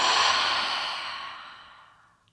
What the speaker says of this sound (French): On inspire profondément par le nez, on expire par la bouche